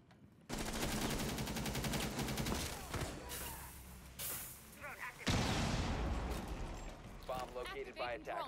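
Rainbow Six Siege gunfire from an esports cup match rattles in bursts, a dense spray of automatic shots through the first few seconds and again after a brief lull, while a caster talks over it.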